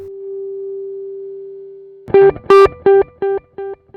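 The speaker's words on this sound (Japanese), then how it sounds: "ペダルディレイ。 これも、踏み込んだらエフェクトがかかる。" On a Zoom G1 X Four multi-effects processor, a guitar tone holds for two seconds, then a note sounds and repeats as five pedal-delay echoes, each a little quieter, evenly spaced.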